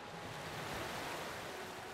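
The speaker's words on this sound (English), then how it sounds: "You hear the sliding of stone underneath your feet and a sudden rush of water." In a fantasy video game, a pool drains with a sudden rush of water, a steady broad hiss and roar that holds at an even level for the whole moment.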